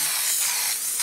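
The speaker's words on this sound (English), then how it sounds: "we'll give the bag another spray" Short, steady hiss of an aerosol can spraying glitter onto a bag, close and continuous for about a second.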